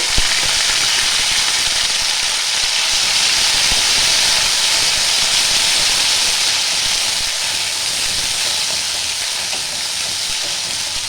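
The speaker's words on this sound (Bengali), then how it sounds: "আদাটা একটু আমি ভেজে নেব।" Ginger frying in a hot pan, a loud, dense and continuous hiss of sizzling oil that holds steady from start to finish with no voices.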